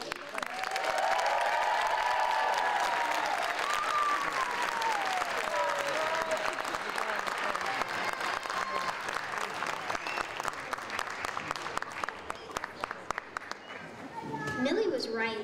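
A school audience at an elementary school cabaret applauds loudly and steadily, with scattered cheers and children's voices mixed in, before the clapping thins out and fades toward the end.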